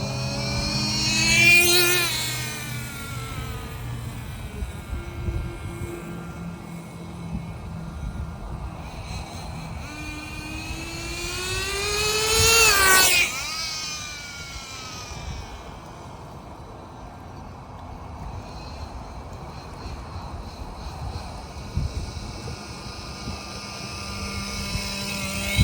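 A Traxxas Jato 3.3 nitro supercharged RC car engine revs up and down in high whining sweeps, shifting into second gear as the pitch rises and drops, with a steady engine drone between bursts and no talk.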